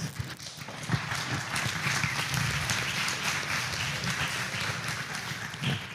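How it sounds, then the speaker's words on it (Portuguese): Sustained applause from a lecture audience at a physics talk, dense even clapping that fills the room at a moderate level without a break. "Esse aplauso é pro rapper"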